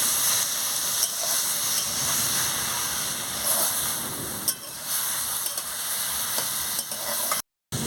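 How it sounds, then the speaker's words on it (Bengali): Mustard paste being stirred into drumstick-stem chorchori that sizzles and hisses steadily in the pan, with scraping stirring strokes close up and a brief pause near the end. "আমি সর্ষে বাটাটা দিয়ে দিচ্ছি, দিয়ে ভালো করে নাড়াচাড়া করে নিচ্ছি।"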